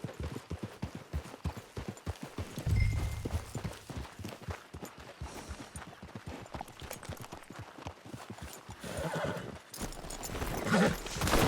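A horse in Red Dead Redemption 2 neighs and whinnies near a camp, over steady clip-clop hoofbeats and busy game ambience, with a louder whinny partway through.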